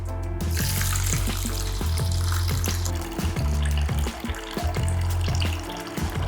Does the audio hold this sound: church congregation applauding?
no